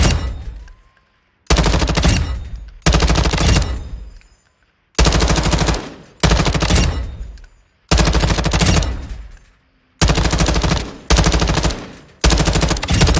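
Bursts of automatic gunfire from Modern Warfare II, with sharp recoiling weapon sound in about eight loud sustained volleys separated by short silences, close and without talk.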